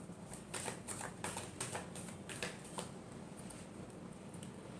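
Tarot cards are shuffled in a quick run of light, crisp riffling taps, close and faint, easing off after a few seconds.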